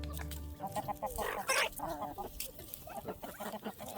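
Hens cluck close by as they are let out of a farm chicken coop, with several overlapping calls and short squawks.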